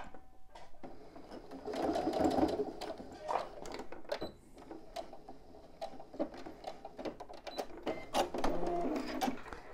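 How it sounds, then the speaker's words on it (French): Sewing machine stitching a zip onto a fabric pouch, running in quick bursts of rapid needle clatter with short pauses and a few handling clicks between runs, close and moderately loud. "je vais faire une petite couture"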